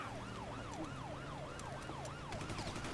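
A police siren wails in Grand Theft Auto V, a steady rising and falling tone repeating about twice a second over rumbling car engines and game noise, with no talk.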